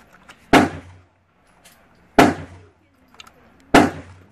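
Three sharp, loud gunshots from a Ruger 10/22 rifle fitted with a tank-style muzzle brake, evenly spaced about a second and a half apart, each a crisp crack with a brief fading tail outdoors.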